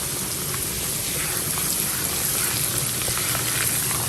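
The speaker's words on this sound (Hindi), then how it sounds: "सूजी को हमें इस वक्त तक भूनना जब तक कि उसमें से सूंघी सी खुशबू ना आ जाए।" Semolina roasts in a pan for sooji halwa, giving a constant soft frying hiss with faint crackles, close and even throughout, with no voices.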